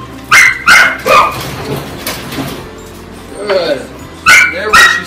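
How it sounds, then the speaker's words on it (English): Dogs at play during a dog aggression training session bark in short loud bursts, two pairs at the start and two at the end, with scuffling, a whimper and someone talking in between. "the dogs are starting to play"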